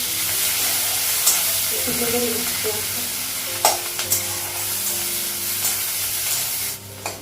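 Dried red chilli and onion frying in a hot pan, a loud steady sizzle close by, punctuated by a few metal stirring scrapes and taps.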